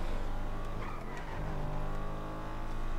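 A Benefactor Schafter LWB armored sedan in GTA V drives with a steady engine drone and a brief squeal of tires midway, the motor humming continuously and fairly close.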